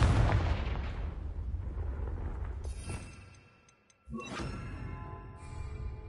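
A Confringo fire spell in Hogwarts Legacy bursts loudly at first and fades to near silence, then a sharp new blast and crackle follows with a ringing magical tone.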